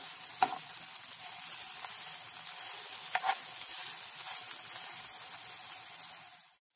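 Beef steak pieces fry in a pan with a steady close sizzle throughout, broken by a few sharp scrapes and clacks as they are stirred, until the sound cuts off at the end.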